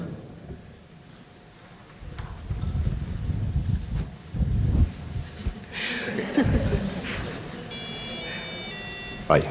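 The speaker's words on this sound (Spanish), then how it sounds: "Se pone la luz roja y salta la alarma." An electronic recorder-blowing training device for a music class sounds its alarm, a steady high beep that starts partway through after breathy blowing and some voices, then short tones near the end.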